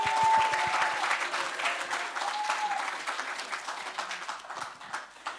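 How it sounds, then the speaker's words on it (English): Sustained audience applause at an evening community talk event in Hawke's Bay, New Zealand, welcoming the main organiser to the stage: dense steady clapping from a sizeable crowd, loud at first and gradually easing off, with a few brief voices in the mix. "One big round of applause for Miss Tania Carr."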